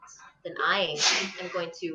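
A single loud, close sneeze bursts out between a woman's spoken words, a sharp nasal gasp-and-release lasting under a second.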